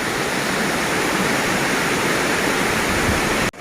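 Camly waterfall in Dalat, Vietnam, a low cascade with water falling into a pool, makes a steady, dense roar that continues unbroken for several seconds before cutting off abruptly at the end.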